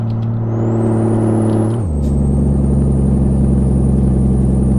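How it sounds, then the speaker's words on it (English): A heavy Peterbilt 379 truck's 800-horsepower engine drones loudly and steadily, its low rumble dropping in pitch as a gear shifts, with a faint high whine above. "the sound of the engine is deafening at some point"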